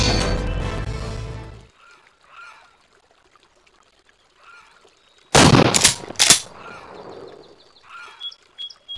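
Arcade shooting game Primeval Hunt fires a quick burst of loud, sharp gunshots after quiet stretches of soft game effects and bird calls.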